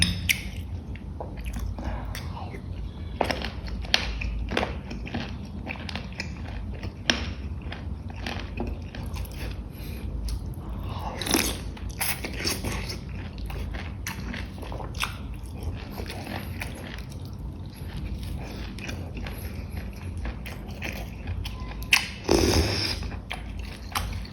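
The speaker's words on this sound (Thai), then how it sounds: "กัดแล้วมันจะกรุบกรุบเด้งสู้ฟันแล้วนะ" Someone eats a curry of puffball mushrooms (hed phao), biting into the crunchy, springy black mushrooms with repeated close, moist crunching and chewing sounds over a steady low background.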